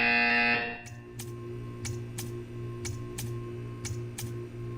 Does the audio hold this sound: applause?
no